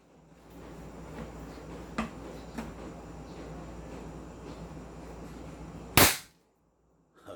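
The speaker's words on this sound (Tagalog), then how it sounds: "okay. Firing, Lucas." A single sharp, loud shot from a non-lethal Beretta M92 pistol cracks out after several seconds of low, steady background rumble with a couple of faint clicks. The rumble then cuts off to near silence.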